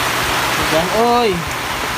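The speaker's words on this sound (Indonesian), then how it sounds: "Hujan oi." Steady rain pours outdoors as a dense hiss that continues without a break, while a nearby voice speaks briefly over it.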